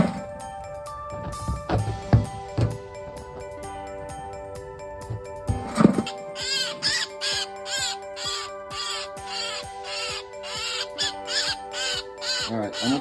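A starling rescued from a microwave lets out harsh, repeated calls and squawks close by, with a person's voice heard early on.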